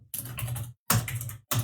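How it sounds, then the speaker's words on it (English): Bursts of rapid typing on a computer keyboard, three close runs of dense clicking separated by short pauses, loud and alone. "I'm typing here, right?"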